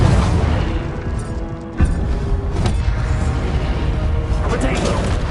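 An Incendio fire spell cast in the Hogwarts video game bursts with a loud whooshing boom and crackling blast, followed by a sustained roar of flames and rumbling debris.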